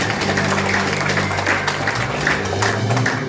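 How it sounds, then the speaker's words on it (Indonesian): Church congregation applauding together during a Christmas worship service, a steady dense wash of clapping that runs the whole time over a low sustained hum from the hall. "Kita berikan tepuk tangan untuk saudara-saudara kita"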